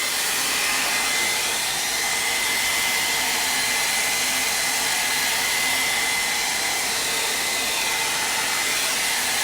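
A hair dryer blows steadily on fresh paint during a boho gallery wall project, a loud, constant whooshing whine with no breaks and no talk.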